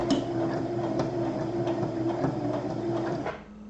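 A sewing machine stitches a rope bowl, a steady mechanical whirr with a rapid needle rhythm, loud and close, running without pause for over three seconds before stopping abruptly.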